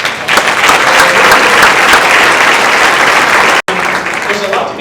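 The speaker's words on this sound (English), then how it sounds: "So let's give Kiefer Crossing Middle School a round of applause." Loud, sustained applause from a school board meeting audience honoring a middle school, a dense wash of clapping that runs nearly five seconds with a brief break near the end.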